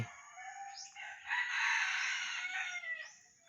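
A red junglefowl rooster crows once in a single long, strained, high-pitched call that rises, holds and trails off, clear and fairly close against quiet surroundings.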